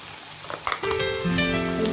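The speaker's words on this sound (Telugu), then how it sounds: "కలుపుకొని బాగా ఆయిల్లో ఫ్రై అయిపోవాలి." Ginger paste frying in hot oil gives a soft sizzle, with stirring clicks early on, then steady tonal music rises over the frying.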